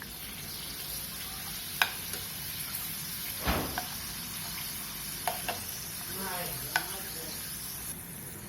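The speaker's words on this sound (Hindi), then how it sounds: "ये देखिए धीमी गैस पे हमने इसे तल लिया है।" Mini papad frying in oil over a low gas flame, a steady soft sizzle throughout with a few sharp clicks and a brief scraping stir near the middle.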